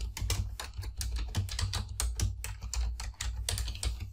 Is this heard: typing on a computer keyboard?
yes